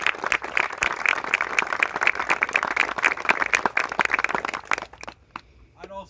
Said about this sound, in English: Could I ask you for a round of applause?